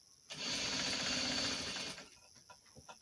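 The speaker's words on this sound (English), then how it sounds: "Make sure you do back stitch. And roughly sew about 1/4 of an inch from the edge." A home sewing machine stitches fabric for simple boxer shorts, a quick rapid mechanical whir lasting about a second and a half, close and clear, followed by softer handling noises.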